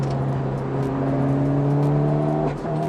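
A Mitsubishi Lancer Evolution IX with a no-lift-to-shift setup drives and accelerates. A close, loud, steady engine drone climbs in pitch, then drops with a brief cut near the end as it shifts.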